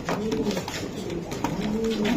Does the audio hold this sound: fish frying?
no